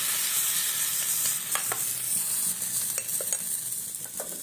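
Loud, steady sizzling of a hot oil tempering with curry leaves poured over chutney, with occasional sharp crackles and pops scattered over it; the hiss eases slightly toward the end.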